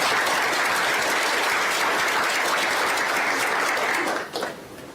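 Loud, dense audience applause at a technical talk, steady clapping from a crowd filling the room before tapering off near the end.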